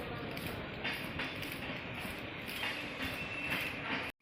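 A train runs over a railway bridge near Thane station, its wheels clattering in steady rhythmic beats with a continuous rumble close by, then cutting off abruptly.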